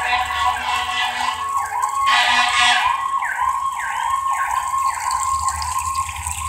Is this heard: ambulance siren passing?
yes